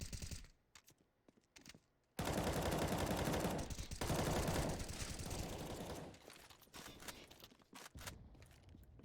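Counter-Strike gunfire on the Vertigo map in an ESEA MDL match: a few scattered shots, then a dense, loud burst of rapid automatic fire that thins into sporadic shots and clicks.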